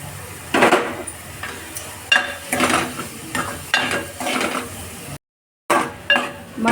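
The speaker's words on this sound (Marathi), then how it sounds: "मसाल्याला चांगला तेल सुटेस्तोवर आपण त्याला परतणार आहोत" Agri Koli masala with garam masala, turmeric and salt is stirred in oil in a pan, giving soft, repeated scraping strokes over a faint sizzle, broken by a brief silent gap.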